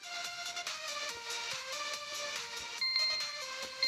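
A timer ringing in a video game, a bright electronic ringtone-like melody of repeating tones that plays continuously at a moderate level.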